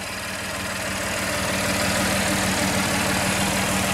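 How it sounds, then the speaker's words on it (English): A 2017 GMC Canyon pickup's 305-horsepower engine with factory block heater idling, a loud, steady close-up rumble that swells slightly and holds even throughout. "This engine gets darn good gas mileage and has plenty of power with 305 horsepower."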